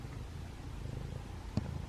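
A trapped feral kitten purrs softly and steadily up close, a quiet continuous rumble with one small click near the end.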